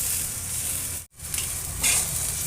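Whole spices, including mace, roast in a hot pan for a Maharashtrian mutton rassa, producing a strong continuous sizzle and rustling stir, briefly cut off for an instant before resuming louder, with no voices.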